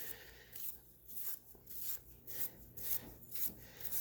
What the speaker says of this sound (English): we're going to take our 2 silver wires, and with that Brillo pad, we're going to scuff them up